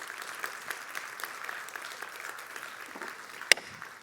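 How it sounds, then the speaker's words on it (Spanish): A church congregation breaks into steady, dense applause during a Spanish-language sermon, with a single sharp louder clap near the end standing out from the wash of hands. "Dale un aplauso al Señor por eso."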